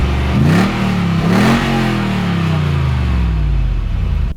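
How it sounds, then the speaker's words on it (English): A Lexus GX470 truck engine revs twice close by through a Revel catback exhaust with a turned-down tip, rising to a deep throaty roar, then settles back toward a rumbling idle. "underneath this truck, we've got a Revel catback exhaust system with the turn down at the end for clearance"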